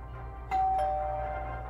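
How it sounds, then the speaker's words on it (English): A doorbell rings indoors in a home, a clear two-tone ding-dong chime sounding once and lingering briefly before fading, with no talk over it. "Ah, the doorbell."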